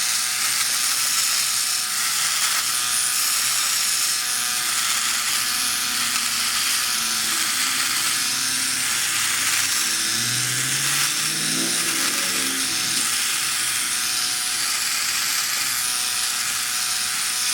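A Philips OneBlade electric shaver buzzes steadily while dry-trimming a moustache, its whirring motor close and continuous, with a brief shifting tone midway as the blade moves across the hair.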